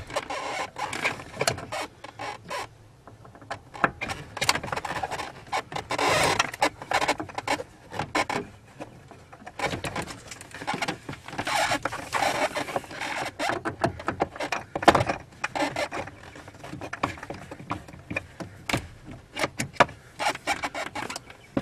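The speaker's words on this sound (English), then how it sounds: "there's four screws we have to get out, and I'm using a T10 Torx." A T10 Torx screwdriver backs out four speaker screws in a 1999 Oldsmobile Alero door, making close, uneven scraping and squeaking turns with repeated short bursts and brief pauses.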